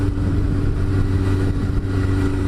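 A Suzuki GSX-R600 motorcycle engine running with a steady, droning mid-pitched tone, loud and close, without clear rises or drops in speed.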